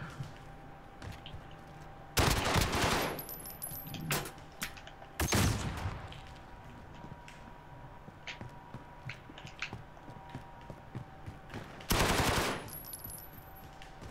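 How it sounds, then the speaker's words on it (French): Bursts of video game gunfire during an online shooter match, with two loud sustained volleys and a shorter burst, separated by quieter stretches of faint background game sound. "Ah, tu m'as tiré dessus, hein, tu m'as vu."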